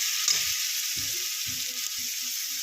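Chopped onion, tomato and green chili fry in a hot pan with a steady loud sizzle, broken by soft low knocks of stirring.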